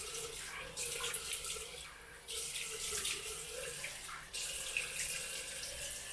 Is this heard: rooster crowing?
no